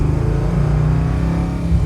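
A 1969 Chevy Camaro RS/SS V8 muscle car held at about 3,500 RPM, a loud close, throbbing engine drone with a steady pulsing rumble throughout.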